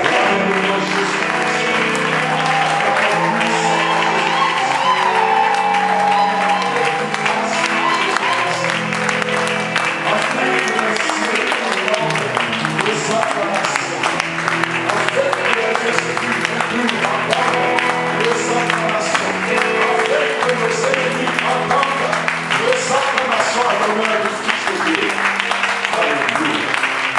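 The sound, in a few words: congregation applauding Jesus Christ in church sermon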